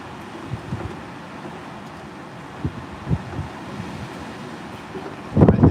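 Outdoor wind buffets a microphone while someone sets up and levels gear on rocky ground, a low steady rush with a few soft gusts and a stronger burst of wind noise at the end.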